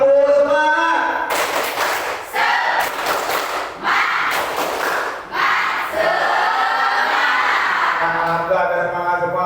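A school class performs a rhythmic clapping chant, bursts of group claps in patterned sets alternating with voices chanting together, loud and close in a classroom.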